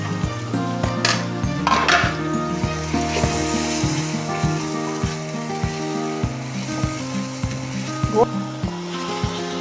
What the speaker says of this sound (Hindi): अब इसमें हम डाल देंगे साथ ही टमाटर और सब्ज़ मिर्चें।